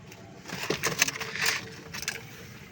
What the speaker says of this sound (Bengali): এই বাচ্চাটা এখনও চিচি করছে